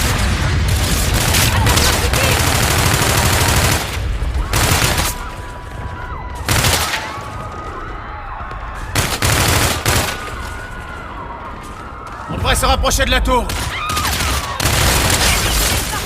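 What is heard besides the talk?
gunfire in a video game battle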